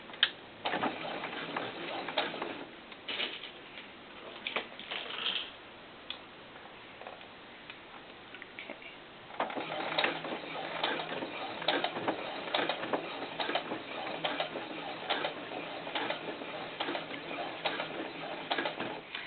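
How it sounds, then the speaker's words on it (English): Sewing machine stitching a doll skirt close to the fabric edge, giving bursts of rapid, close mechanical ticking and clatter with short pauses, then a longer, steadier run in the second half, with no talking. "Okay, so let's go ahead and sew that."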